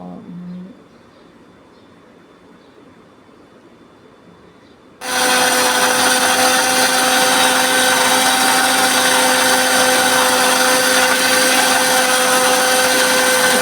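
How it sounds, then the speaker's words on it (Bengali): An electric mixer grinder runs steadily, grinding spice paste for a Bengali fish kalia curry; a loud, continuous whirring motor roar kicks in abruptly after a quiet stretch and holds unbroken to the end. "তো এইবারে এটাকে মিক্সিতে ভালো করে পিষে নিতে হবে।"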